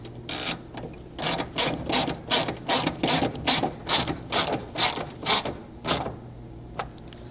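Rapid ratchet clicking in regular bursts, about a dozen short pawl runs with brief pauses, close and fairly loud, while a bumper fastener is reinstalled on a 200 Series Land Cruiser fitted with a Strike front bumper; no talk.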